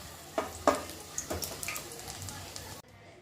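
Eggplant frying in oil, a soft continuous sizzle with a few sharp stirring clinks and taps over the top, cutting off abruptly near the end.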